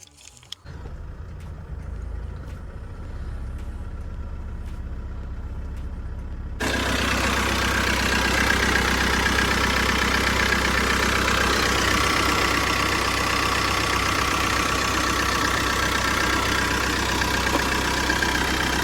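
A warmed-up Opel Astra K with a small turbocharged engine idles steadily up close, a quieter low hum for several seconds before the engine note jumps louder and holds a continuous rough drone to the end.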